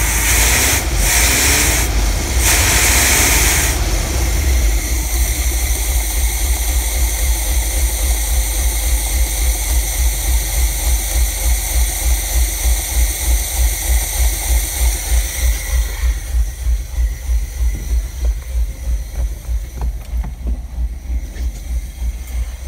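An old engine starts up and settles into a steady idle, loud rhythmic chugging pulses continuing evenly throughout with a hissy, rattling undertone.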